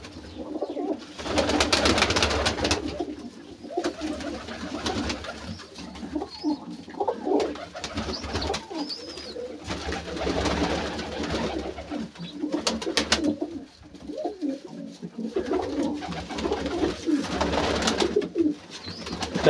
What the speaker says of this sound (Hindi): बड़े सादे से कबूतर हैं इनके पास